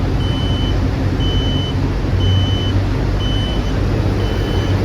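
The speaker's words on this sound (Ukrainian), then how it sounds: "Це пікають обороти низькі." Short electronic low-engine-speed warning beeps repeat at a steady one-second rhythm over the constant rumble of a Lovol GM80 combine harvester engine running at low speed.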